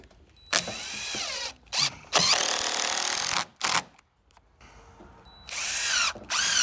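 A power drill drives screws into a wooden fascia joint on a 100-year-old house. The drill makes loud, close whirring bursts that start and stop several times, with short pauses between them and no talk.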